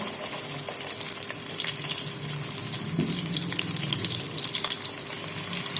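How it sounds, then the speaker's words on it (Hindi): Finely chopped onion hits hot oil and sizzles steadily in a pan, a dense, even crackling hiss close by that continues without pause and without talk. "अब हम इसमें कटा हुआ बारीक प्याज वो इसमें शामिल करेंगे"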